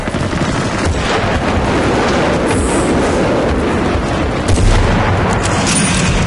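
Dense, rapid automatic gunfire in the video game Battlefield Bad Company 2 rattles continuously and loudly, with a heavier thump near the end.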